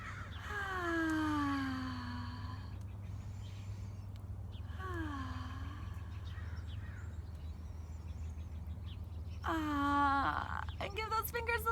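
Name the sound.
crows cawing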